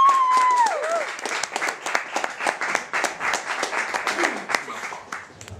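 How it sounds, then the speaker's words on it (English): Audience applause at a comedy show, a dense burst of clapping from a crowd that starts strong, then thins into scattered claps and fades, with a brief whistle-like tone at the start. "round of applause for Mark Gammons"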